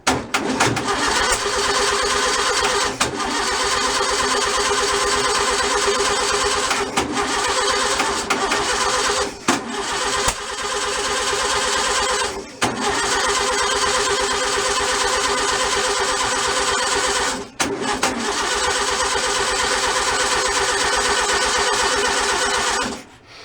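A stock 1600cc VW engine with no exhaust fitted fires up and runs loud and raw, a harsh continuous roar lasting over twenty seconds with a few brief dips as the revs falter.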